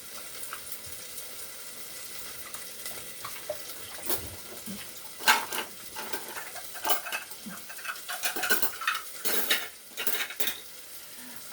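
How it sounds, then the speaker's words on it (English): A waffle mixture whisked in a bowl, irregular clinking and scraping bursts of a utensil against the bowl, close and moderately quiet, with a light watery background. "I'm just gonna give this a whisk"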